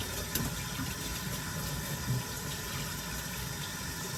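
A puppy is rinsed during bath time with a continuous flow of water, a steady close hiss and patter that barely changes throughout and is heard alone without speech.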